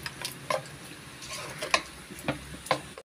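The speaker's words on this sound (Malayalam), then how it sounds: "1 സ്പൂണ് വെച്ചിട്ട് മിക്സ് ചെയ്തെടുക്കുന്നുണ്ട്." A spoon stirs rice mixed with spices in a pot, giving a series of sharp scraping clicks spaced irregularly about every half second, close and fairly quiet.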